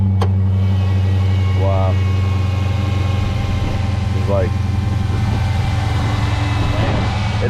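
A 2018 Dodge SRT idles steadily after a cold start, a low, loud continuous engine rumble close by, with people talking briefly over it.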